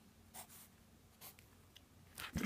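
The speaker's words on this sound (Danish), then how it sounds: "Det skriver jeg lige hernede." A pen scratches across paper in short, quiet strokes while a math proof of a derivative is worked out by hand, the strokes close and faint with brief pauses between them.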